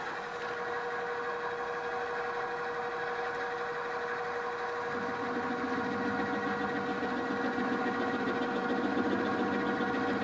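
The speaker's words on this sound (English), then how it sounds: "It looks very much like what you'd see and hear in a milling machine." A milling machine in a machine shop runs continuously with a steady mechanical drone and tonal hum, picking up a louder rumbling, chattering texture partway through as the cut engages.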